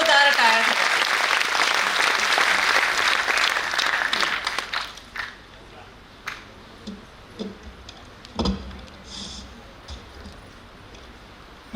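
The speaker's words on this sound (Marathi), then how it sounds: "SP लांजेवार साहेबांसाठी एकदा जोरदार टाळ्या" An audience gives loud applause for SP Lanjewar at a motivational speech event, the dense clapping fading after about five seconds into scattered claps, taps and small knocks in a quieter room.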